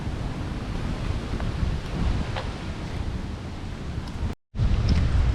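Steady roar of ocean surf at a beach resort mixed with wind buffeting the microphone, loud and continuous, broken by a brief cut of silence near the end.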